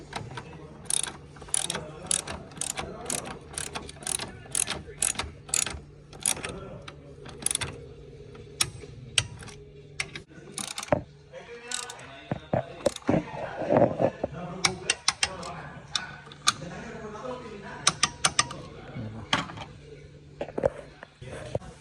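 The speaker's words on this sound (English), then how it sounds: "we're gonna torque this at 133 foot-pounds" A ratchet and torque wrench click in fast repeated bursts while tightening strut bolts on a Mercedes-Benz GLK250 diesel front suspension in a garage, close and sharp, with a voice speaking in between.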